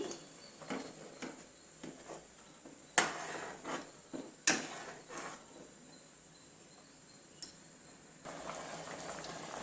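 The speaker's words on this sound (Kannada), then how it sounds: "ಈಗ ನೀರು ಚೆನ್ನಾಗಿ ಕುದೀತಾ ಇದೆ" Water with rice bubbling at a low, steady level in a pressure cooker, with scattered knocks and clinks from the pot and a few sharper taps standing out.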